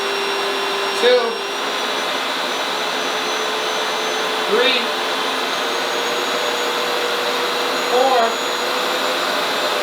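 A RevAir hair dryer runs at full heat on setting 7, giving a steady, loud broadband whoosh throughout. A voice counts aloud in short bursts over it.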